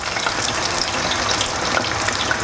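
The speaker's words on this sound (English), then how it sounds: "the fat's nice and warm now, the chips are dry, so carefully put them in" Chips sizzle and crackle in hot fat for fish and chips, a dense, steady, close frying hiss with fine popping and no voices.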